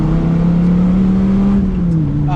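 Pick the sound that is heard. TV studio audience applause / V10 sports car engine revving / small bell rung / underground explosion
V10 sports car engine revving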